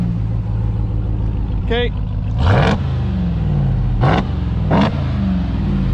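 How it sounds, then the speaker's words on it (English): A 2021 Ram Rebel TRX's supercharged engine idles with a loud, steady rumble and is blipped three times, each quick rev rising and falling sharply, while someone briefly speaks over it. "just give me one or two good blips"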